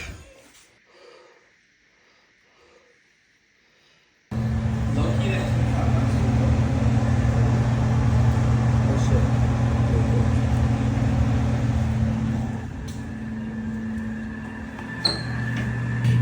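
A newly replaced HVAC blower fan starts up and runs with a steady, loud whooshing hum and low drone, continuing strongly after a quiet start, with brief faint talk early on.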